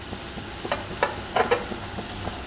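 Fenugreek powder and rice fry in a pan for butterfly pea flower fried rice, giving a soft continuous sizzle with a few light scraping stir strokes scattered through.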